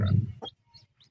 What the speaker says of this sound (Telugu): ఇదిగోండి 2 పిల్లలు.